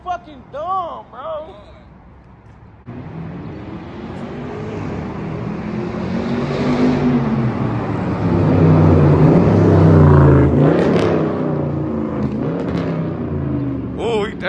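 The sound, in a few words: Jeep SRT engine revving and downshifting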